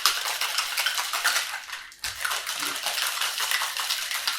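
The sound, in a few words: cocktail with ice being shaken in a shaker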